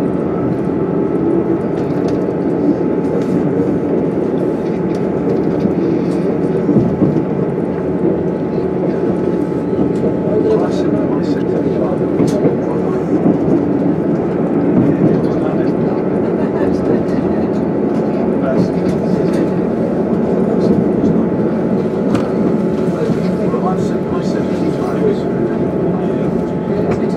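Train pulling out of Wellington station on the Heart of Wales line, a steady rumbling drone with clattering and rattling throughout, heard from on board with people talking underneath.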